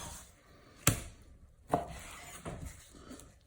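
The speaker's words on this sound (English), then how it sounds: "I'm going for the dicing method this week on these guys." Knife dicing raw chicken on a cutting board, a few sharp separated chops against a quiet kitchen background, no speech.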